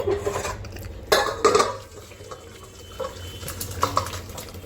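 A heavy pot of jackfruit vegetarian curry is lifted off a gas stove and poured, with clanking metal knocks and scraping against a quiet kitchen background.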